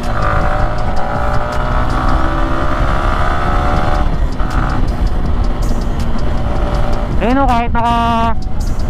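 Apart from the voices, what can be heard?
wind noise while riding a motorcycle with helmet-mounted GoPro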